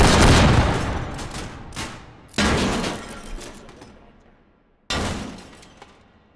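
Loud bursts of gunfire from bots in H3VR, an arena VR shooter: three heavy volleys of rapid shots, each tailing off into echoing decay before the next burst starts.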